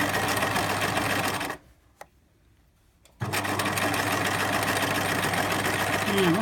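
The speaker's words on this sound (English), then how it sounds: "we can continue sewing to the next corner." A sewing machine stitches a fabric pencil case, running in a steady, loud, close whirring burst, pausing for about a second and a half with a small click, then resuming the same even hum.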